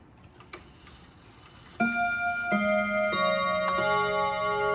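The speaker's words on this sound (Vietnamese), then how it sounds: "bây giờ sẽ mời các bác cùng em nghe thử cái tiếng chuông nhé" A chiming watch strikes the quarter hour: faint ticking, then a sequence of about four close, clear ringing chime notes that overlap and sustain.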